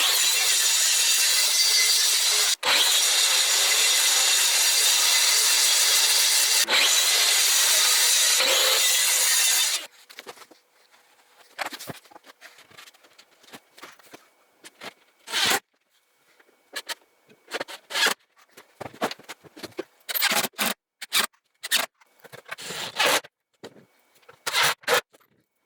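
Reclaimed plywood being cut to size with a saw, a loud continuous rasping buzz for the first ten seconds, followed by scattered scrapes, knocks and handling noises of the wood.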